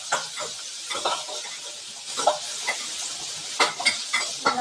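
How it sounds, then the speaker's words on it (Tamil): Onion and tomato sautéing in a pan for a Tamil-style sundaikai varuval: a constant frying sizzle is broken by sharp scrapes and clinks of a spoon stirring against the pan, close and alone. "நல்லா ஃப்ரை ஆகட்டும்."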